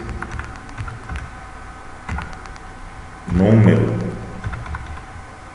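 Computer keyboard typing during a programming lesson, a burst of clicking keystrokes close to the microphone alongside someone speaking.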